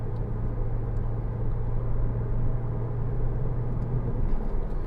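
Porsche Cayman 987 2.9 engine droning steadily from inside the cabin while driving, a low constant hum with road rumble and no talk.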